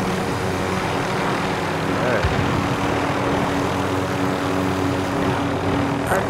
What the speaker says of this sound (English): There's the other helicopter down there.